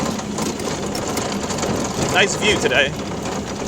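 A 1969 Volkswagen buggy engine runs with a steady, close, buzzing drone, and someone speaks briefly over it near the end.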